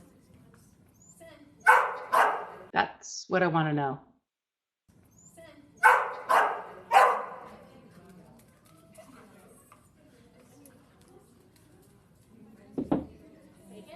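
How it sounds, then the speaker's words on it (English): A dog barks in a few sharp bursts during a retrieve training session, with a person speaking between the barks and a single brief bark near the end. "I don't know when the bark took place"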